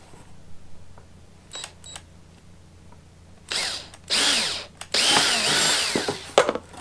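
Power drill boring the first hole in a custom fender for a Honda FL250 Odyssey, heard as a few short whirring bursts that build to a longer, louder drilling run near the end, with quieter handling noises before it.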